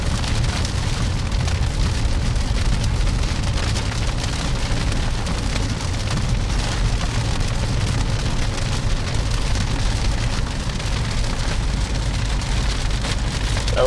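Rain falls steadily on a car driving at night through forest roads during a storm near Edmonton, a constant close patter on the vehicle over a low road and engine rumble, with no speech.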